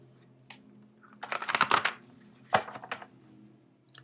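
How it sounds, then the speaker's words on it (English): Tarot cards shuffled in two quick bursts of papery riffling and crisp card slaps, with a longer flurry followed by a shorter one, close and fairly quiet against a low background hum. "Let's give it one more shuffle"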